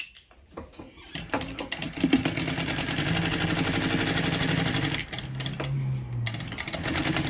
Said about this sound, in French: Et on va surpiquer à gauche de la couture pour attraper la marge de couture.